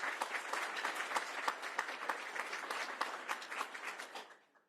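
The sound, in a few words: audience applause for State Parks Commissioners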